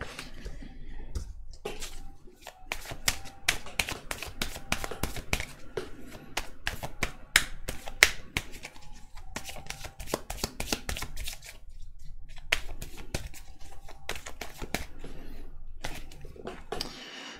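Oracle cards for a 2020 tarot-style reading being shuffled and handled, a long run of crisp rapid riffling and flicking clicks with brief pauses, close and steady, with no voices.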